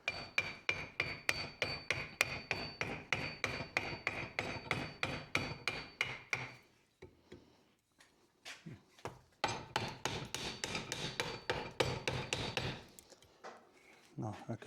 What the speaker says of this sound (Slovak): takto si rozmlatím rukoveď na dláte